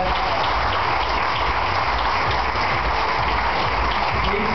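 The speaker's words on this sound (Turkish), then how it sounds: "Alkışlayabilir miyiz arkadaşlar?" Crowd clapping for a junior fitness champion at a bodybuilding awards event, loud dense steady applause filling the room throughout without pause.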